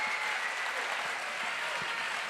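An audience at a poetry slam applauds, a dense, steady wash of many hands clapping at moderate distance, continuous for the whole moment with no voices standing out.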